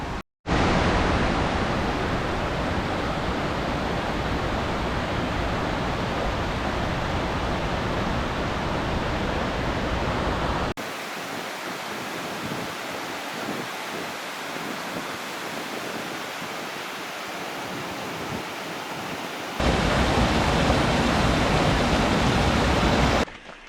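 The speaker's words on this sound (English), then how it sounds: "There's a big waterfall back there." A big waterfall in Idaho gives off a constant, dense roar of rushing water, loud and unbroken. The level dips for a stretch midway, then the full roar returns.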